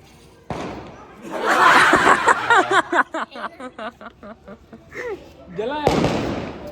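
Firecracker bombs set off outdoors during Diwali and Govardhan Puja celebrations: a sharp bang opens, loud excited voices talk over it, and a second burst erupts near the end.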